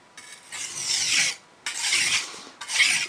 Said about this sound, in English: It just slides into the sharpening stone